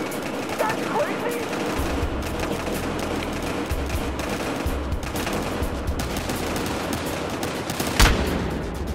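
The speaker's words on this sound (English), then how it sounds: "reporting gunfire downtown" Gunfire fills a Battlefield Hardline firefight in rapid, continuous bursts with a sharper loud shot near the end, mixed with shouted voices and game action.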